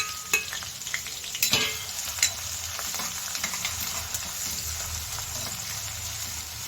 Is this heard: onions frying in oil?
yes